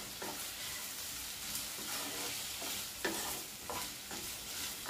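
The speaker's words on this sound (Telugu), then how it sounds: "ఇవి టమోటా కాస్త మగ్గేదాకా మనము దీన్ని ఫ్రై చేసుకుందాం." Tomatoes with salt fry in a pan under a constant close sizzle, with repeated scraping stirs of a spoon marking a loose rhythm every second or so.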